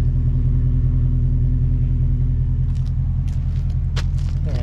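A 2012 Audi S5 4.2 Quattro Prestige runs at a steady idle through its dual exhausts, a close, even low rumble throughout with a few faint clicks near the end and no talking.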